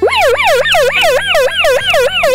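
A seven-year-old boy mimics an ambulance siren with his mouth, a loud, close, steady wailing rise and fall repeating about six times with no pause.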